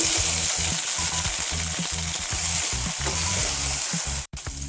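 Tomato sizzles and fries in a hot pan, a steady crackling hiss broken by rhythmic stirring scrapes, close and fairly loud.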